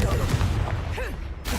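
A blasting-curse spell cast in the video game Hogwarts Legacy bursts as one short, dense explosive whoosh with a sweeping tone, lasting barely over a second.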